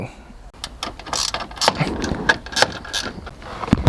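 A ratchet clicks in short bursts while bolts are tightened during a headlight installation on a 2019-2022 Chevrolet Blazer, close and fairly loud with metallic handling noises in between.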